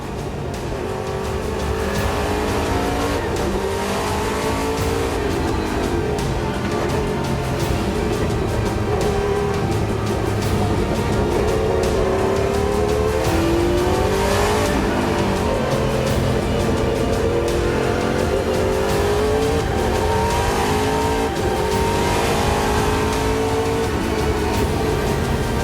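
Classic endurance race cars, Porsche 962s and a Mercedes C11, roar continuously at the Spa-Classic meeting, with engines howling and shifting pitch under a dense, loud wash of track noise.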